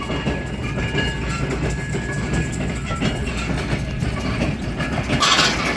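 A sugarcane leaf baler vehicle running in the field, giving a loud, continuous mechanical rumble with rhythmic clattering and a steady tonal whine, close by and unbroken, with a brighter rattle near the end.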